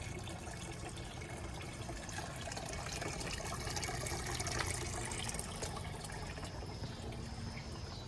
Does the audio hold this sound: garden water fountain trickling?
yes